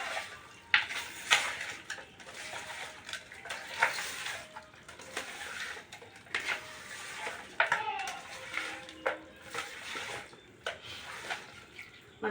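Chicken is mixed with masala in a pot for village-style biryani: a spoon clinks and scrapes against the pot in uneven, repeated strokes, close by and with no talk.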